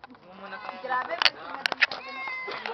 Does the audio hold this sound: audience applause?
no